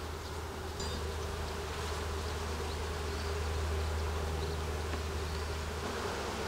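Honey bees swarm and buzz around an opened hive during a spring colony split, a dense steady drone filling the air close by with no voices.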